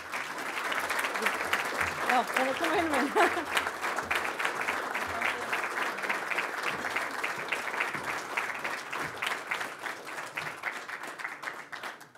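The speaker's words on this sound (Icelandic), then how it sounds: "Gefa hann gott klapp." Audience applause at a golf association meeting's awards presentation: a steady, fairly loud round of clapping from a room of attendees that holds for about twelve seconds and tapers slightly at the end, with a few words spoken over it.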